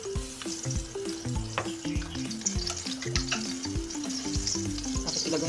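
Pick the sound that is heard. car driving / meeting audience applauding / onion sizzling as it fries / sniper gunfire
onion sizzling as it fries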